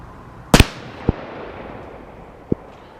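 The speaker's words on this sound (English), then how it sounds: "So let's see what happens with this Glock. I've never shot a Glock from a rest before." Glock handgun shots fired from a rest at a 50-yard range: one sharp, close report, then two fainter pops spaced about a second apart, with no talk.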